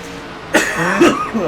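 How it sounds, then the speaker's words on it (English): Two sharp coughs close to the microphone, about half a second apart, followed by a brief throat-clearing sound. "I apologize for coughing so much"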